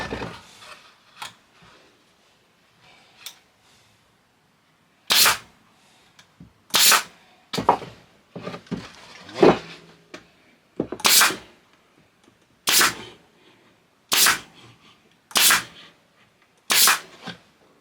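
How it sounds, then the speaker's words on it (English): Pin nailer firing pins into wood while building a sliding storage rack for glue and spray cans, a run of about eight sharp, loud pneumatic snaps at uneven intervals with quieter handling clatter between shots. "Now shoot a couple of pins."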